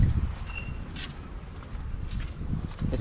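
Strong wind gusting across a hot sandy beach at Dzhemete, Anapa, a steady low rumble of buffeting against the microphone with brief faint higher sounds over it.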